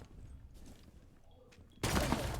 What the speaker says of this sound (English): Putting this SMG to work.